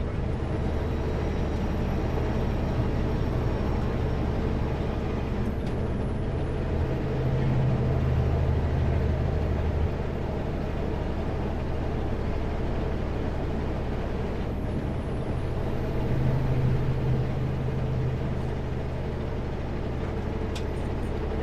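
A vehicle engine drones steadily at close range on a mountain road, with low rumbling bands shifting in pitch as it drops through gears; the sound stays loud and continuous throughout, with no talking.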